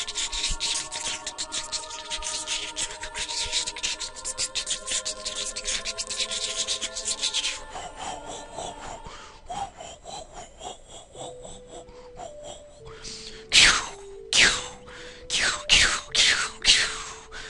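A voice imitates the Barinade boss intro sound effects from the Zelda game Ocarina of Time, with long rasping, hissing breaths followed by sharp gasps and wheezy bursts, loud and close with no other sounds.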